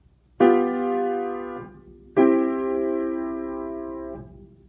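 Two sustained piano chords forming an authentic cadence with an inversion, each struck cleanly and left ringing for nearly two seconds before the next, alone with no talk.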